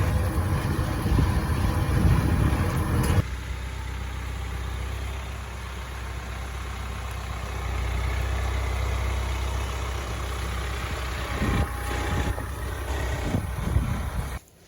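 A John Deere 4066R compact tractor's engine runs with a steady, close low rumble. It is louder and rougher for the first few seconds, then settles into an even drone, with no voices.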